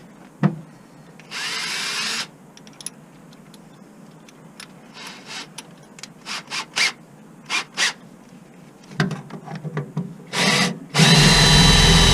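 A power drill with a non-metal drill bit whirs in several bursts, some long and some short stabs, separated by quieter pauses, close up and loud, while removing a fuel tank from a 1998 Dennis Dart bus.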